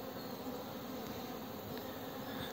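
Honeybees at a hive in February produce a steady, continuous buzzing drone, close by and moderately quiet, with no talking.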